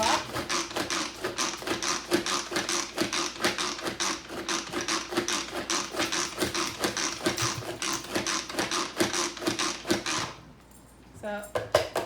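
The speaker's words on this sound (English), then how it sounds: "now I'm just gonna pump this a little bit to chop it all up" A manual food chopper is pumped over and over, giving a fast, steady train of clicking, clattering strokes that stop near the end, followed by a brief rattle.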